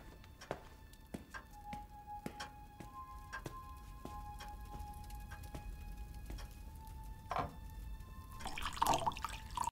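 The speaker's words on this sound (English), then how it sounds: "Was that really the sound that the water made when it fell into the glass cup?" Water drips falling into a glass cup, a steady run of distinct close plinks with short gaps between them, then a small splashy burst toward the end.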